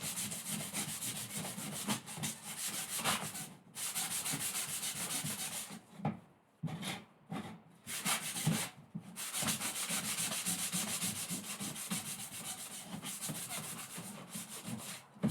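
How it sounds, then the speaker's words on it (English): Sandpaper scrubbing a double-sided printed circuit board for a DIY synthesizer oscillator, a loud, steady back-and-forth rasping that runs nearly continuously with a few brief pauses, close up and with no voices. "that's a pretty good sanding"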